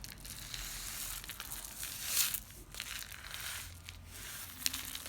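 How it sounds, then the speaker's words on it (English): A homemade rain stick rattles and crinkles as it is tipped, giving a continuous rustling patter with a few sharper crackling bursts, close by and with no one speaking. "Or is it your rain stick?"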